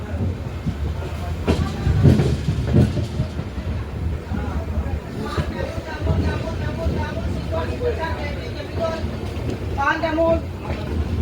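A long-distance train from Assam to Gujarat, India rumbles along with a steady clickety-clack of wheels on rails, close and continuous, while voices talk over it.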